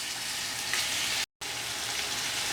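Muradabadi mutton biryani masala sizzles vigorously in a pan after yakhni stock is added, a dense, loud, continuous frying hiss broken by one brief moment of silence.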